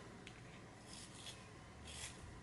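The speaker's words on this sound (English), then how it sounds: "I'm using my comb sharpener, my little handheld one, because I'm just kind of freshening up my leads" Prismacolor colored pencil lead freshened in a small handheld sharpener, giving a few faint, short rasping scrapes spread across a quiet background.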